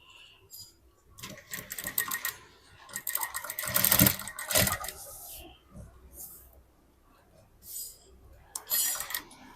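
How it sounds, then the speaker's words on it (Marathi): Sewing machine stitching the back of a blouse, with short bursts of rapid mechanical whirring separated by pauses and small handling clicks, close but fairly quiet, and a soft voice speaking at times. "आता सर्व साइडने टीप मारायची आहे."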